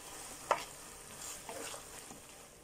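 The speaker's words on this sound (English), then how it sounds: "And give it a stir." Beef picadillo simmers in a pan on the stove, Pinoy style, with one sharp spoon stir and scrape followed by softer stirring and a quiet steady sizzle, close and without talk.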